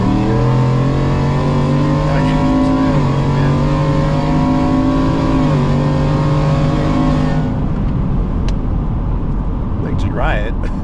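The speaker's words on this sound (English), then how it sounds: "I'm gonna slam the gas like a 50." Lowered, supercharged 2023 Ford F-150 4WD pickup accelerates at full throttle from about 50 mph, its engine loud and close with rising pitch through gear changes for about seven seconds before easing off, and a voice speaks briefly afterward.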